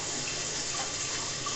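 Water runs steadily from a bathroom tap into a sink while a face is wetted before a shave, a constant close splashing hiss with no pauses and no talking.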